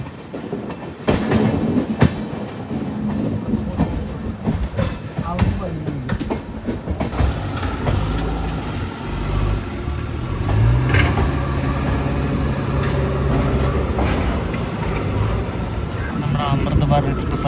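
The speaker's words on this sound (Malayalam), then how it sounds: "അപ്പം 7 മിനിറ്റ് ലേറ്റ് ആയിട്ട് കണ്ട് ഇവിടെ നിന്ന് പുറപ്പെടുകയാണ് നമ്മുടെ അമൃത് ഭാരത് എക്സ്പ്രസ്" The Amrit Bharat Express pulls out of Shoranur station in Kerala, a loud close rumble with clattering wheels and a rising engine drone, while someone talks over it throughout.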